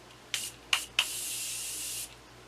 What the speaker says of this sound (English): Morphe Continuous Setting Mist. It is so amazing.